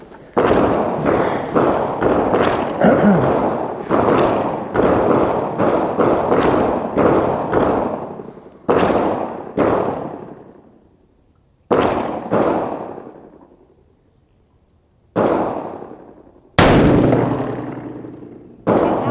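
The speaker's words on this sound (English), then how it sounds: "Okay, this will be the second shot." Rifle shots from loads of H1000 powder and 147 gr ELD-M bullets, loud sharp blasts that each ring and fade, packed closely at first and then spaced several seconds apart.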